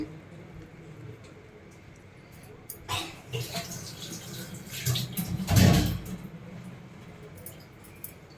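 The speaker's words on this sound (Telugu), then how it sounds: "మనకైతే బనానా మిల్క్ షేక్ రెడీ అయిపోయిందండి చూడండి కప్స్లో వేసుకుందాం" Banana milkshake is poured into cups: a few short liquid splashes and glugs close by, with the longest and loudest pour near the end, and a person talking before it.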